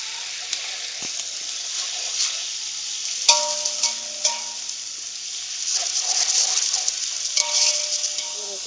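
Garlic and ginger fry in hot oil in a pan while haleem is being made, giving a steady loud sizzle with occasional clinks and stirring sounds.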